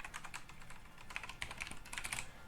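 Rapid, uneven clicking of a computer keyboard during a programming session, keys struck in quick bursts at close range with no voices.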